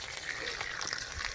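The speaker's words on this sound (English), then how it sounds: "you can see the water coming in." Groundwater trickles into a French drain pipe in a soggy, flooded yard, a faint continuous hiss of running water over a brief moment.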